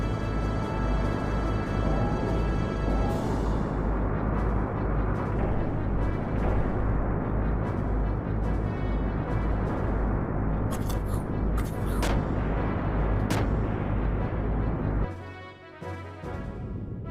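Artillery cannon fire in Xenogears, with a sand cruiser under attack. A heavy, continuous rumbling barrage holds loud for most of the stretch, broken by sharper blasts, then drops away abruptly near the end.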